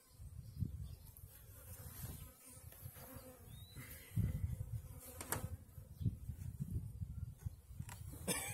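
Honeybees hum around a barrel hive housing fourteen frames, a faint, uneven buzz that swells and fades as individual bees pass close by, with no talking.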